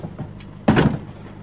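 Rear door of a Rescue 1122 ambulance in Murree being pulled shut with a single loud slam after some faint rustling and knocks, close by.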